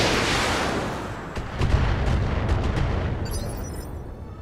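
Turret fire in the video game Roguepoint, a heavy rumbling barrage with several sharp cracks in the middle, dense and loud, easing off with a faint electronic tone at the end.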